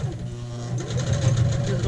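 A sewing machine back stitching the end of an apron strap, a steady close mechanical whir that quickens and grows louder partway through, with a voice speaking over it.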